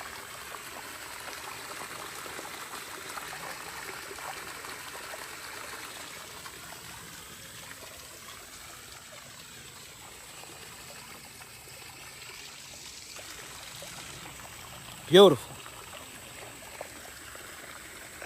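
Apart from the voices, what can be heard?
running water stream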